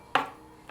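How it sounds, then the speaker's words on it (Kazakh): A single sharp knife chop lands on a board as cooked chicken is cut into small pieces, close and crisp, then a faint second tap at the very end. "Ұсақтап турап аламыз."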